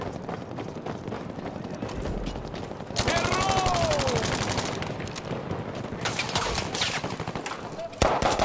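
Thompson M1928A1 submachine gun fire in Battlefield V, rapid bursts of loud close automatic shots with a few gaps between them, set against busy game noise and a voice talking over the action.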